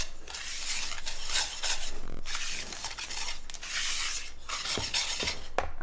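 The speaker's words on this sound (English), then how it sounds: "these are our dry ingredients, so I'm going to go ahead and just mix those together really good" Dry cake ingredients for a pineapple coconut Do Nothing Cake being mixed in a bowl, a steady gritty scraping and rasping in long sweeps with brief pauses, close and continuous with no talk.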